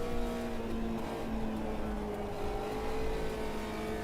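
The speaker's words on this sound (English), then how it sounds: "Yeah, the engine sounds too compressed." Race car engine from the Automobilista 2 racing game at Monza, a steady, dense, compressed drone that holds a sustained high-revving pitch with slight rises and dips throughout.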